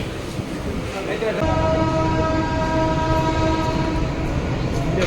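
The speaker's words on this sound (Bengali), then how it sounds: "ট্রেনটা ছেড়ে দিল" A train pulls away with a swelling rumble and steady tonal whine of the motors, a brief murmur of voices before it builds.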